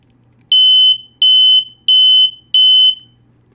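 Four loud, shrill smoke alarm chirps in a steady rhythm, each lasting under half a second with short gaps between them, sounding close and alone against a faint low hum.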